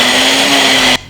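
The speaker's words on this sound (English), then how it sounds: "Now we're just going to screw on the lid and blend it until smooth." A countertop blender whirs loudly at full speed, blending a peanut butter jelly protein smoothie with Greek yogurt and flaxseed, a steady high motor whine that cuts off abruptly just before the end.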